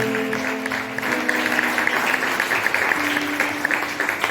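A church congregation at a French-language worship service claps together in a steady, dense round of applause that lasts throughout, with some faint voices mixed in.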